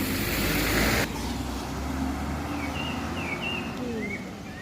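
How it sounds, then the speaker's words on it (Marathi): A bus pulls in and idles at a village stop just behind a house in Kolkewadi, Chiplun, its engine rumble loud at first, then settling into a steady low drone with faint birdsong above. "सकाळी साडेदहाची चौथा टप्पा गाडी आलेली आहे"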